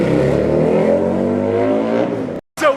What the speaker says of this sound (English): Oh my God, the car coming.